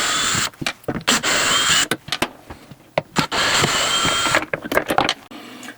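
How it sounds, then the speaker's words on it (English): Power drill whirring in short bursts while unscrewing cabinet hinge screws, close motor whines interrupted by clicks and handling knocks. "You want to start with the first hinge and just unscrew it."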